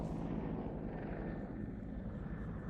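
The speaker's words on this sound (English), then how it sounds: "the Griffin helicopter just deciding to give us a flyby as well" A Griffin helicopter from the Defence Helicopter Flying School at RAF Shawbury makes a flyby at the Throckmorton Airshow, producing a steady, loud, broadband engine and rotor roar that holds constant with no voices.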